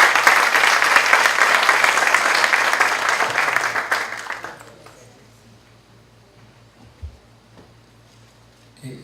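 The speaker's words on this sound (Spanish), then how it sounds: "quiero que le demos un aplauso de bienvenida." Welcoming applause from an audience at a university faculty lecture, dense clapping for about four seconds, then fading quickly into quiet room tone with a few faint knocks.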